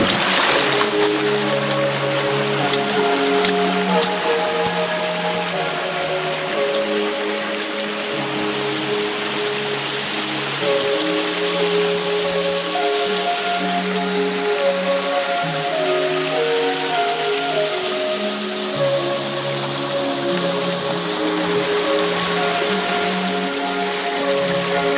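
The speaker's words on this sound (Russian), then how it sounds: "Приходится по ручью идти, потому что стенки слишком крутые и заросшие кустами." A mountain creek rushes steadily and loudly over rocks along a steep, bush-choked ravine, a continuous close wash of water with no voices.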